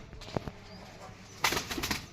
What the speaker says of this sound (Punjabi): ਤੇ ਆਪਾਂ ਛੱਡਦੇ ਆ ਕਬੂਤਰਾਂ ਨੂੰ